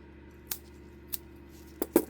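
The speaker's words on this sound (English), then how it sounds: "Now I'm just going to snip off the excess." Scissors snip off excess cured resin from a craft piece in about four quiet, crisp cuts, two spaced apart and then two close together near the end, with no talk.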